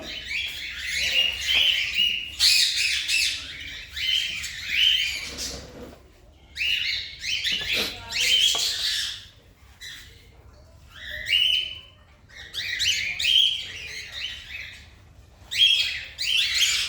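A hand-fed baby pet bird chirps and tweets in repeated bright bursts with short pauses, fairly close and clear, with no talking.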